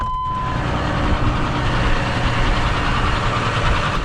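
A John Deere 7R 210 tractor engine runs steadily in the cold outdoors, a loud, close, continuous low diesel rumble with no change in pace.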